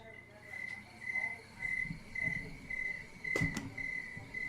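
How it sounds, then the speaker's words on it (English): Crickets chirp steadily in a continuous high trill near a 40-gallon fish tank setup at home, with faint background noise and a brief knock partway through. "Crickets again."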